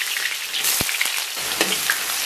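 Scallion, ginger and garlic hit hot rendered lard in a wok and sizzle with a bright, crackling hiss. A few sharp clicks of a spatula stir through it, and no one speaks.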